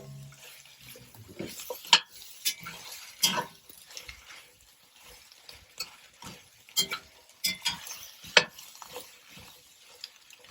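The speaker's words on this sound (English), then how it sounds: "mix everything together" Lamb steak and vegetables get stirred together in a hot pan, with irregular scraping and clattering strokes over a soft background sizzle, close and moderately loud.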